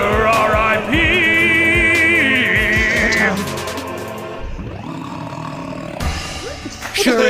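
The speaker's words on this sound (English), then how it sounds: "that wretched goddamn loser genie lets out a time-shaking wail" A genie's time-shaking wail as a sound effect in a puppet show, a loud sustained roaring, wavering cry lasting a few seconds, followed by quieter shuffling and a final loud burst.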